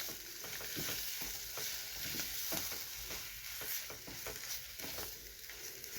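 A spoon scrapes and stirs a potato masala filling for veg puffs in a pan, with a soft sizzle beneath repeated close scraping strokes.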